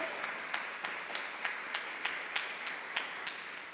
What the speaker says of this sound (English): I'd like to give a huge round of applause to Amy Traver.